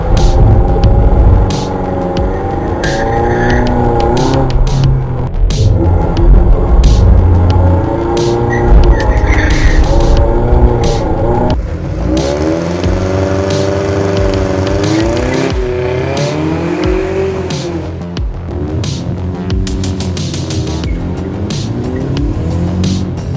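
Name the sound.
straight-piped Mercedes W204 M271 exhaust, drive-by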